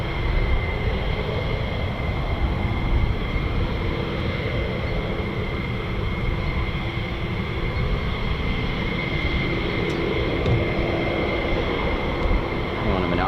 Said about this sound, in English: I can hear a jet down the taxiway